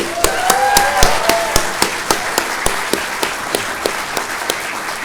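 Audience applause for exhibitors at the opening remarks of the VRLA Summer Expo, a VR event: sparse, distinct claps with sharp individual hand strikes, moderately loud and steady for several seconds, with no talking.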